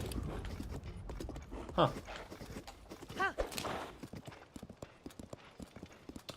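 A horse gallops in a video game with rapid rhythmic hoofbeats up close, broken by a couple of short whinnies. A man gives a brief murmur.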